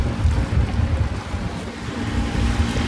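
A catamaran motors past in a bay at Orpheus Island on the Barrier Reef, a low engine rumble blended with wind buffeting and water wash, loud and continuous.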